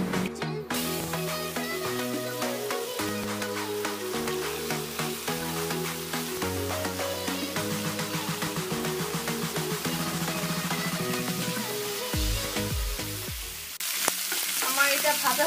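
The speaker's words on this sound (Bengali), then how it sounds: "এখন আমি চিকেনগুলো দিয়ে দিচ্ছি।" Chicken pieces fry in a pan over high heat for a stovetop pizza topping, giving a steady, loud, continuous sizzle with stirring and music underneath.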